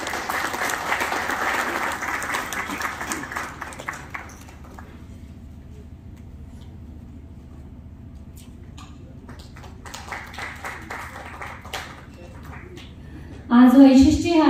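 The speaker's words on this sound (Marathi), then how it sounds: "जोरदार टाळ्यांचा कडकडाट." Applause from an audience at an honouring ceremony during a Rayzon Solar programme in a Pune hotel, a dense clapping wash at the start that fades to quiet room noise, with a second burst toward the end over voices.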